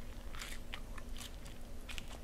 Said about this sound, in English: This is what it looks like when you chew it up.